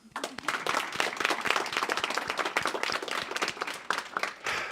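Audience applause at the close of a final presentation, a smaller group clapping with distinct, uneven individual claps that rise quickly and carry on without talk.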